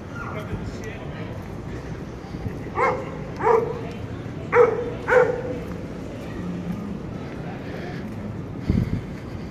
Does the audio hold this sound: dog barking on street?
yes